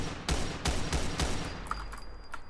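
Several sharp gunshots from a scoped sniper rifle in a PC alpha-build action game, firing in a steady, evenly spaced burst of four loud cracks, followed by quieter faint clicks and tones.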